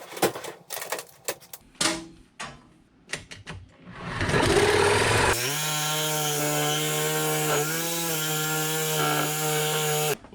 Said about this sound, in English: cut it with a sawzall.